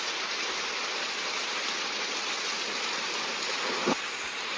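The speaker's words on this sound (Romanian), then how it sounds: "Se pare că ne-a prins și o ploaie urâtă, dar sperăm să se sfârșească." Steady heavy rain falling during a mountain hike, a continuous broadband wash close around the listener that holds even for several seconds, with one brief louder knock near the end.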